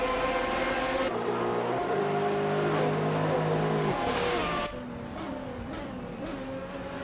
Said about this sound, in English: I hope you are enjoying watching these racing cars driven by AI